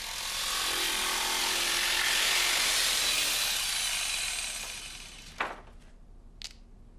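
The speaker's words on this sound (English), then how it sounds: "Then with the jigsaw, cut down the length of the board." A jigsaw rasps steadily through a wooden board for several seconds, then stops, followed by a couple of short clacks as the board is handled.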